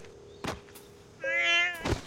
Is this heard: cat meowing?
yes